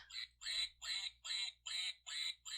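A squeezed toy duck quacks about six times in a steady rhythm, nasal and close, at a moderate level with a faint low hum beneath.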